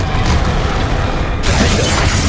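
Confringo and Glacius spells cast in Hogwarts Legacy make a loud, dense roaring blast that suddenly turns to a brighter, crackling burst partway through, with no voices.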